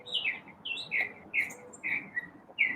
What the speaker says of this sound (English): You hear Chirpy. Chirpy is here.